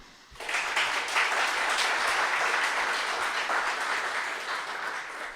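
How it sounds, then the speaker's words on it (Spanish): Audience applause at a literary event in Torrebaja, starting abruptly after a brief quiet moment and holding steady as a dense wash of many hands clapping, fairly loud, with no talk over it. "pido un aplauso muy fuerte para ellos"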